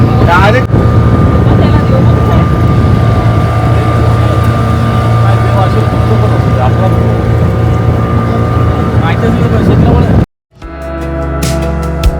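An eight-seater long motorboat carries passengers on a lake in Ooty, its engine drone steady and loud throughout before cutting off abruptly near the end, with a brief muffled rumble after.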